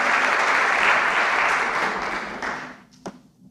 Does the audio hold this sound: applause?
yes